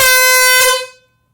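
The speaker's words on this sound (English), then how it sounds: "So our last gas-powered can is the classic 8-ounce Seachoice air horn." A Seachoice 8-ounce gas-powered air horn with trumpet blasts once, extremely loud and close, a bright harmonic honk held for under a second before cutting off abruptly.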